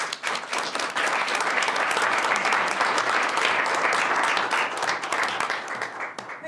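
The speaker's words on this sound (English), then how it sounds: "if we could give them a round of applause for all the work" An audience at a school district board meeting applauds the IT team, giving a steady, full round of clapping that holds for several seconds before tapering slightly at the end.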